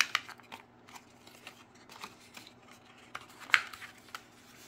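Paper pages for a wildflowers mini album are folded and creased by hand, soft rustles and crisp crinkles with a couple of sharper taps, close and quiet.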